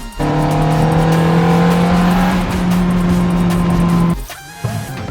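A car doing a hard launch start, its engine roaring loud and close with a steady rising drone for about four seconds before cutting off abruptly, followed by a brief quieter rumble.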